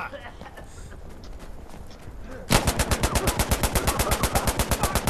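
Gunfire in the video game Insurgency Sandstorm breaks out halfway through as a loud, sustained automatic burst of rapid, evenly spaced shots after a stretch of quieter game ambience.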